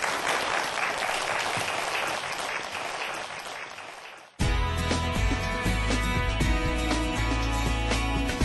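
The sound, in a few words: audience applause for a lecture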